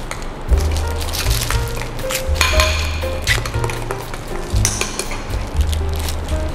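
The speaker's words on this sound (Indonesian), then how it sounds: "adonannya kita campur dengan coklat yang tadi kita udah buat ya" Chocolate being stirred into cake batter in a bowl, a utensil scraping and clinking against the bowl in repeated strokes, close and moderately loud with a low background hum.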